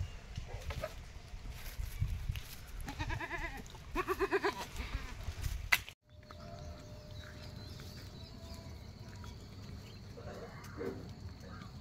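Goats bleat in a rural farm setting near Kolhapur, with several wavering calls clustered early on before a quieter stretch of steady outdoor background noise.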